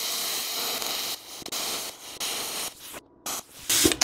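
Cheap Amazon plasma cutter cutting metal, a loud broadband hissing arc that starts and stops in bursts with brief gaps of near silence, close up.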